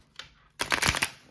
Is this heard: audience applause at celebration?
no